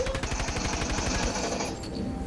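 Rapid automatic gunfire from a video game rattles in steady bursts, loud and close, easing off briefly near the end.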